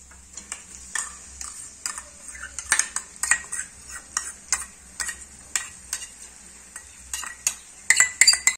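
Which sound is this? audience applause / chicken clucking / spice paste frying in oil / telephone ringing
spice paste frying in oil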